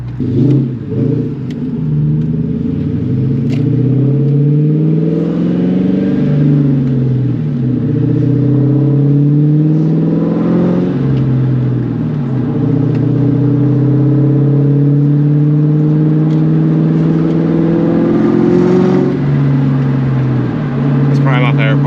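A 1999–2004 Ford Mustang with an aftermarket exhaust revs and accelerates in repeated rising and falling sweeps, loud and close, echoing off nearby buildings while someone talks over it.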